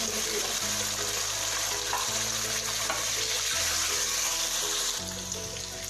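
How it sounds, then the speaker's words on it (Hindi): Chicken pieces sizzle loudly in a pan of hot ginger-garlic paste for a chicken korma, a dense steady frying hiss with occasional stirring scrapes, close up. "अब इसके अंदर मैं चिकन डाल देती हूँ"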